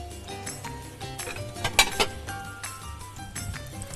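A plate fetched in a home kitchen: ceramic dishes and cutlery clink and clatter close by in scattered knocks, with a sharp cluster of clinks near the middle.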